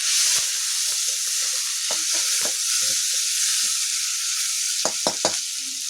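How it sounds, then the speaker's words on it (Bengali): Chopped onion frying in a pan with whole spices and dried red chilli, for potol chingri, under a steady sizzle, with intermittent scraping strokes of a spoon stirring it and a few sharper knocks near the end. "তারপর নাড়িয়ে নেবো পেঁয়াজটাকে।"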